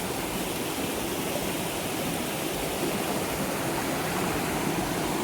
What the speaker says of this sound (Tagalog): And ito po mismo yung ilog.